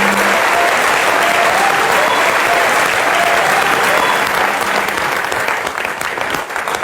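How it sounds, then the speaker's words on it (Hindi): Loud, sustained audience applause fills an auditorium, a dense continuous wash of clapping that fades slightly toward the end. "एक बार जोरदार तालियां रजा सर के लिए"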